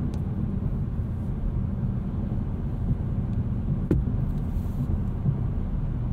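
Inside a 2022 BMW Alpina B8 Gran Coupe cruising on the road, a constant low rumble of engine and tyres fills the cabin, broken only by a faint click partway through; nobody speaks.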